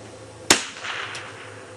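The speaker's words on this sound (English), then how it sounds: "Not bad shooting for 250 yards with a 22." A single sharp crack from a .22 rifle firing at a target 250 yards away stands out over steady outdoor background noise, followed by a faint distant tap.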